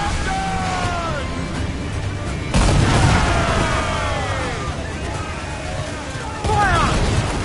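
Ship cannons booming during an Assassin's Creed IV Black Flag naval battle, heavy blasts landing at intervals amid shouting crew voices and a constant roar of sea and battle.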